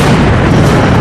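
A fireball explodes right beside an F-4 Phantom jet, a loud, close, sustained roaring blast filling the whole moment.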